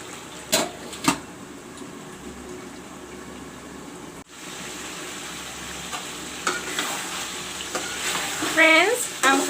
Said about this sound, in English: I am frying the chicken along with the masala